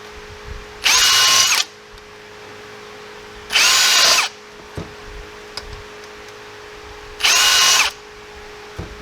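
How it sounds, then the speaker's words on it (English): A power drill bores out soft brass pins from a mechanism on an XT Falcon, in three loud, steady bursts of about a second each with quiet handling gaps and small knocks between them. No one speaks. "So we just drill these out."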